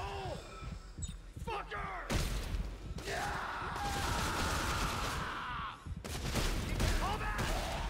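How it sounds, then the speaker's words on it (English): Gunfire in the sci-fi horror game Dead Space 3 comes in a few sharp bursts followed by stretches of sustained, rumbling weapon noise, set fairly quietly under a player's occasional talk. "I'll shoot you in the head."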